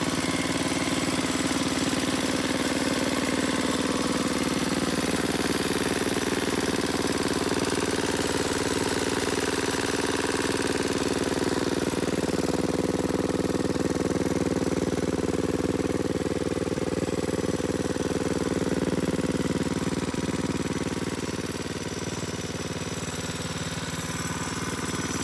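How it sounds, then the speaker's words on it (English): A 212cc motorized bike engine runs steadily on its own for the whole stretch, a close, even mid-pitched drone with a faint knocking texture and no voices, easing slightly quieter near the end. "So here's the bike running,"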